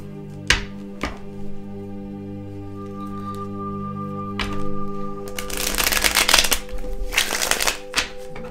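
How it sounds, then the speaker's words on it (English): Tarot cards are riffled and bridged in quick bursts, a crisp fluttering rush of paper, preceded by a few sharp taps, close up with a steady hum underneath. "I pre-shuffled my decks, but I like to shuffle them one more time"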